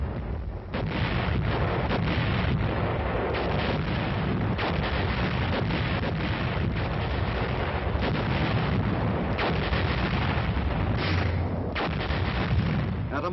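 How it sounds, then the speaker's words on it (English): Artillery fire pounds German positions at the mountain bastion of Cassino, a dense run of heavy booms and blasts one after another over a continuous rumble, with a muffled, band-limited tone. "Artillery pounded their positions around the clock"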